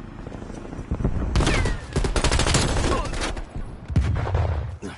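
Dense, sustained bursts of gunfire from an enemy sentry turret in a PS4 video game erupt after a brief quieter opening and stay loud and rapid throughout, with some game voice faintly mixed in.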